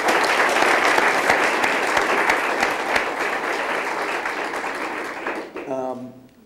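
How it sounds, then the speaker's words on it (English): A crowd applauds at a 2005 college basketball head coach announcement, with dense, loud clapping that gradually fades, and a voice starts speaking as it dies away. "I think we should take a time out to give him a round of applause and thank him."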